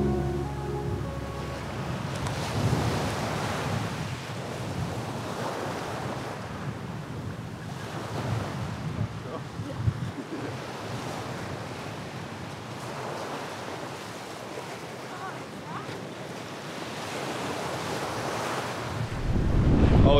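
Gentle surf on a shallow, calm beach at Isla Mujeres near Cancun, a steady wash of small waves with wind noise on the microphone, continuous and fairly close, with no talking.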